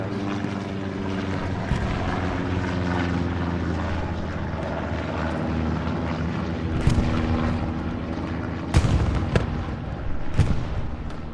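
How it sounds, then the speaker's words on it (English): A recon plane droning overhead in the video game Hell Let Loose on Utah Beach, a steady propeller-engine hum with sharp distant gunfire and explosion cracks breaking through, no voices. "We have another recon plane going over for OFIN"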